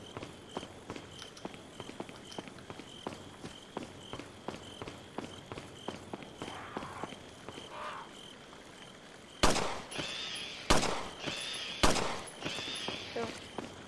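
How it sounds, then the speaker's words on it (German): Pistol fire in the Resident Evil 4 video game, several sharp, loud shots spaced a second or so apart near the end, after a stretch of quieter rhythmic footsteps. "Bleib mal mit der Pistole,"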